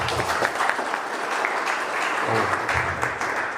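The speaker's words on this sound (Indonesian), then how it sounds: "Aplaus untuk mereka." Seminar audience applauding, a steady wash of many hands clapping at moderate volume for several seconds, with a little background voice and music mixed in.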